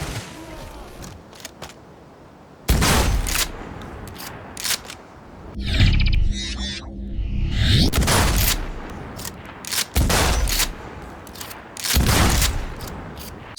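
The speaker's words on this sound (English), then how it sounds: "So, we have a shotgun that only fires both barrels at once" A video-game double-barrel shotgun that fires both barrels at once booms loudly several times, each blast hitting hard and trailing off, with quieter reload clicks and mechanical handling between shots.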